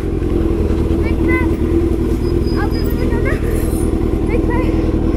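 Motorbike engine running nearby, a steady loud rumble that stays constant throughout, with voices talking over it.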